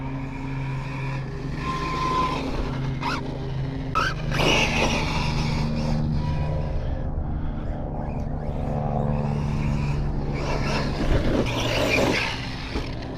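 A Team Corally 4S RC car runs at speed outdoors, its high-pitched electric whine rising and falling with tire scrub and skidding on loose ground, heard from a moderate distance.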